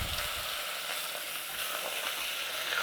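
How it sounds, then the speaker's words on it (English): Butter bubbles and sizzles in a pan as the base for a bechamel, a steady close crackling fizz heard alone. "We've got that butter in there bubbling away"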